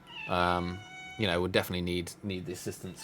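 A cat meows repeatedly for treats in a few drawn-out, tonal calls, with a person talking in between during a tournament commentary.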